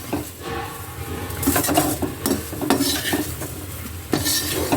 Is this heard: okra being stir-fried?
yes